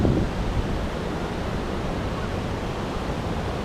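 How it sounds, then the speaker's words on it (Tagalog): Strong ocean waves roar at a beach in Baler, a loud, steady wash of surf with wind noise and no voices over it. "Malakas ang alon boy. Hindi pwedeng maligo."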